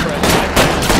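Gunfire in the LA Noire Remastered video game, a short burst of rapid shots ringing out loud and close in quick succession.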